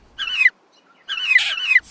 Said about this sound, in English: the woods rang with the squawking of birds sounding an alarm